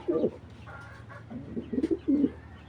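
Racing pigeons coo in several short, throaty bursts spaced a second or so apart, close and fairly quiet against a soft background murmur.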